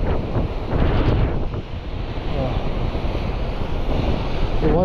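Waves crash against a rocky coastal ledge in strong wind, a steady loud wash of surf with gusts buffeting the microphone and no speech.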